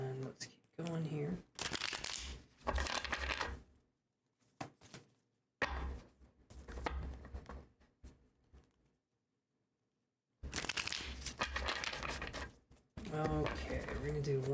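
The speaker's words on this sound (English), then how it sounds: "I'm shuffling the cards here." Tarot cards shuffled by hand in bursts of papery riffling and patter, interleaved with a person talking close by.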